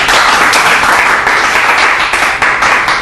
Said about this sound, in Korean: 이것도 박수 좀 치라고 했으면 참 좋겠는데.